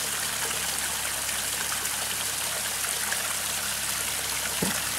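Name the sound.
waterfall cascading down into a garden pond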